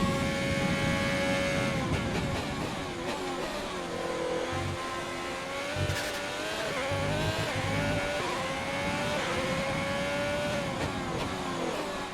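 A Formula 1 car in the F1 2020 racing game, driven in a Haas career at the Italy circuit, revs high and shifts up and down through gears in a continuous, loud, whining engine note with no talk.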